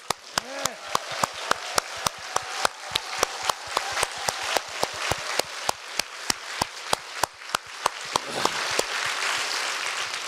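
A church congregation at an Easter Sunday service claps in steady unison, with sharp, evenly spaced beats repeating for about ten seconds under a faint wash of voices.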